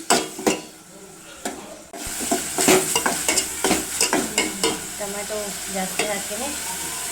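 Tomatoes fry and get stirred in a pan for pasta, a spoon scraping and clicking in repeated strokes over a soft sizzle, close and fairly loud.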